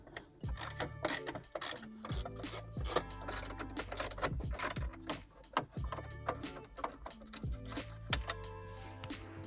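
A hand ratchet with a Torx bit backs out T30 and T25 screws from the radio trim of a MINI Cooper S, making a steady run of loud, close, rapid ratcheting clicks in repeated bursts.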